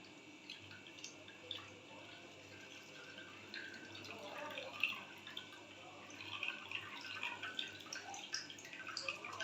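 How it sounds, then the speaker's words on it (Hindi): Water and buttermilk drain and trickle from freshly churned homemade butter being pressed for desi ghee, a steady soft dripping and running-liquid sound, fairly faint and close, with no talk over it. "ये देख रहे हैं किस कदर पानी इसमें से निकल रहा है"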